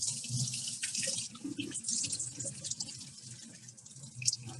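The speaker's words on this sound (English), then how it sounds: "We'll just rinse this quickly over here." Water runs from a kitchen sink tap as prawns are rinsed under it, a soft steady hiss and splash with small clatters, fairly quiet and close.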